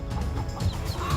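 Mother hen clucking close by, a short run of low, throaty clucks filling about a second without any voices.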